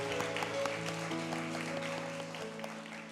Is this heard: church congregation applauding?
yes